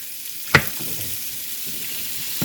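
Sliced patty pan squash fries in a pan with a steady, close sizzle, a brief sharp crackle near the start, then an even hiss of hot oil with no talking.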